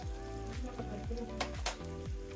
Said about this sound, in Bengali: পেঁয়াজগুলোকে আমি 2 মিনিটের মতো ভেজে নিয়েছি।